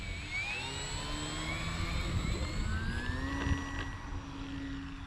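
An RC trainer plane's engine whines steadily during a scale takeoff, loud and sustained with a rising pitch as it picks up speed, heard alone.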